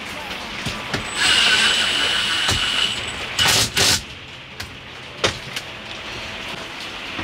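A power drill screws together battery cable extension connections, giving a sustained whine for about two seconds followed by two short bursts, mixed with scattered clicks and handling knocks nearby.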